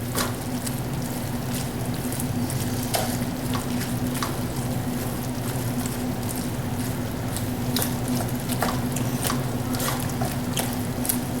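Shrimp and grits cook in a pan over low heat, with a continuous, fairly loud bubbling sizzle and soft wet stirring squishes throughout.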